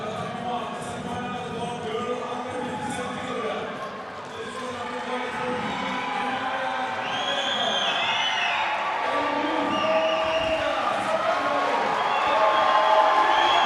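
Home crowd at a youth fencing bout at the European Youth Olympic Festival in Tbilisi, cheering and murmuring steadily in a busy indoor hall, swelling louder toward the end.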